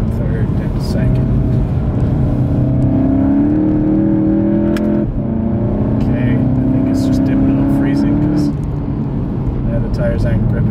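Car engine under hard load climbing a mountain road, with a strong droning whine that holds steady, dips at a shift around the middle, then climbs again before easing off. The engine is close and loud, with a muffled voice underneath.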